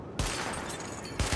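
Rapid gunfire rattles in a dense, continuous burst during a weapon test in Tom Clancy's The Division, loud and close, with a fresh heavy shot near the end.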